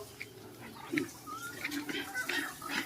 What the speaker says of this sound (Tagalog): nakita ko sa inyo yung mga baboy natin dito